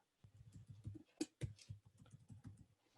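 Quick, uneven keystrokes on a computer keyboard while entering app names in settings, with close, clicky taps and occasional louder key strikes in a steady stream.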